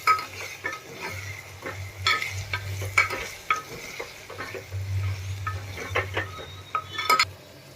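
Coriander-cumin powder and crushed garlic chili are stirred into a frying black-eyed pea and potato curry. A spoon scrapes the pan in repeated close strokes over a steady sizzle and low hum, with no talking.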